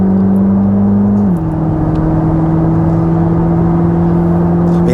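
A 2026 Corvette ZR1 accelerating hard from inside the cabin, a steady rising engine drone broken by one quick, smooth gear shift that drops the pitch before it climbs again; no talking.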